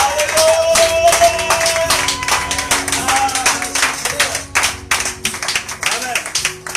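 A Baptist church congregation on a Sunday service claps rhythmically in acclaim of Jesus, a dense, steady beat of many hands close by, mixed with singing voices and crowd noise.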